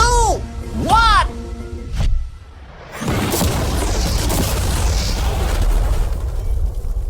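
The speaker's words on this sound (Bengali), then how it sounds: "বিস্ফোরণটা এত জোরে হয়েছে যে ভিতরের ম্যানিকুইন গুলো ছিটকে এদিক ওদিকে বেরিয়ে গেছে।" A car blown up with mannequins inside: after a few swooping warning tones and a pause, a loud boom erupts into a long, roaring rumble of debris that fades slowly.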